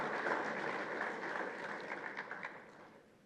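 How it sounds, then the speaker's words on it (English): A crowd applauds, a dense wash of clapping that slowly fades away over a few seconds. "Can we give them a round of applause as we thank them?"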